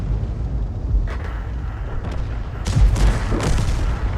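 Artillery fire in World of Tanks, with a low rumbling boom early and heavier, louder booms and blasts later in the clip, all close and without talk.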